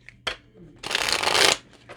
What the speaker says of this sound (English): And I'm just going to shuffle.